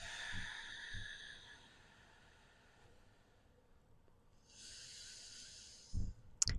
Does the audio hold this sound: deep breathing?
yes